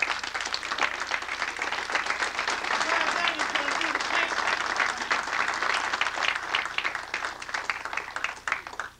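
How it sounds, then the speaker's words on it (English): Fraternity reunion guests applaud, steady dense clapping sustained for about nine seconds, fairly close and loud with a few sharper individual claps, tapering at the end. "I think you all ought to stand up and give him an applause,"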